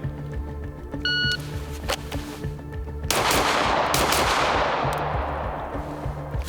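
Several sharp gunshots come from a PSA Micro Dagger pistol, a Glock 43X clone, on a shooting range, loud and close, spaced apart in quick pairs, with a ringing decay after the main burst.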